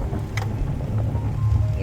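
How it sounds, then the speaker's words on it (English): Wind blowing during an overcast boat ride, a steady low buffeting roar that fills the whole stretch, loud and close on the microphone, with no clear voices. "Hear that wind?"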